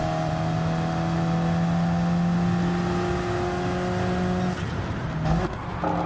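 A Ferrari race car in a racing video game holds a steady, loud engine drone through most of the run, then cuts to a rougher burst of shifting and revving near the end.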